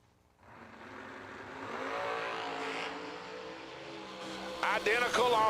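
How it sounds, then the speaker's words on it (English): Drag race launch of a Corvette against a Camaro at a drag strip, engines building from quiet into a loud sustained roar with rising revs, and a brief higher whine near the end. "Corvette versus Camaro."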